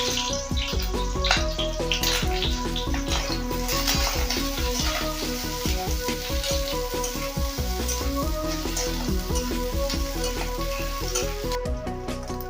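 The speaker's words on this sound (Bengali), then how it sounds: "এটা আমি তেলটা গরম হয়ে গেছে, এর মধ্যে হালকা ভেজে নেব।" Onion pieces sizzle lightly in hot oil in a pan, a continuous close crackle with steady small pops throughout.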